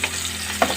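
Onion and garlic frying in a pan, a short burst of close, steady sizzle with a brief scrape or clink near the end.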